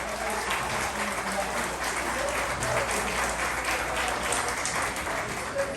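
A thunderous round of audience applause rolls through a concert hall during a live tribute concert in Hollywood, sustained and even, with a voice faintly audible beneath it.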